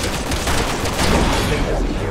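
Dense, loud bursts of gunfire aimed at the Ustanak boss in Resident Evil 6, with overlapping shots that form a steady barrage and a voice faintly underneath.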